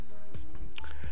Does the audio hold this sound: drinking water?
yes